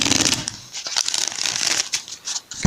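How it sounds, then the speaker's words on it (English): Brisk papery shuffling of a card deck, crisp riffling and flicking sounds close up, with short pauses between bursts. "let's shuffle this deck 3 times"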